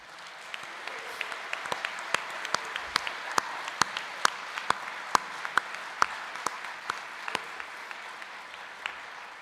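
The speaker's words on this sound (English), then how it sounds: "let's give these honorees a round of applause, please" Audience applause for honorees at a senior inspiration awards ceremony, a thin patter of individual claps with sharp, distinct strikes over a quiet room background.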